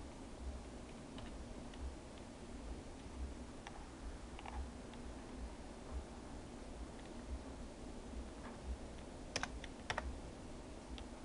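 A command typed on a computer keyboard, with soft, scattered keystrokes over a steady background hiss and a couple of sharper key presses near the end.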